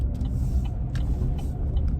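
A small Mercedes-Benz gullwing car sweeps close past a truck, a steady low rumble of road and engine noise holding throughout with no clear swell, its passing blended into continuous traffic drone.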